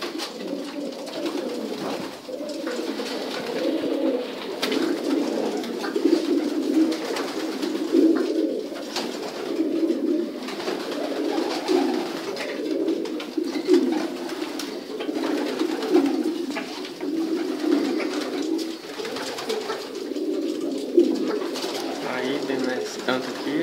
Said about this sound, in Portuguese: vocês vão ver um videozinho aí dos pombos dele